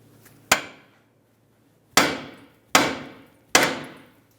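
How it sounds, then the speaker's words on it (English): Four sharp metallic hammer taps ring out on the steering knuckle of a 2006-2012 Ford Fusion, a single strike followed by a pause and then three in quicker succession, each decaying briefly, with no talking. "you could carefully use a hammer and tap along this area of the knuckle"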